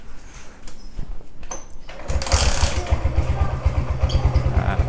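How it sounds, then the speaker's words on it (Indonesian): A Suzuki Shogun motorcycle fitted with a Tiger regulator-rectifier in full-wave wiring is started partway through, and its engine settles into a close, steady, rapid idle. "langsung kita nyalakan aja motornya"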